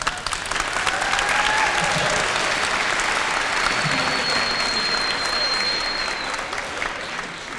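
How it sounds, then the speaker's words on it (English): A band concert audience applauds its seniors with steady, dense clapping that holds at an even level throughout, with faint voices under it. "I'd like to have them stand up if we could applaud for them."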